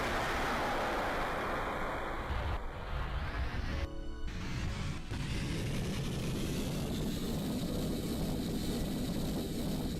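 Rocket engine roaring steadily in a video game as a slow, heavy craft lifts off, a continuous broadband rumble with a brief interruption near the middle, loud and alone with no talk.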